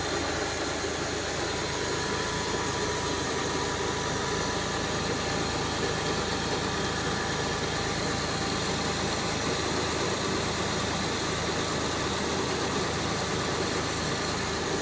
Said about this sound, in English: Now you hear the noise, especially like if you put it in drive and the RPMs go down at night when it's cold.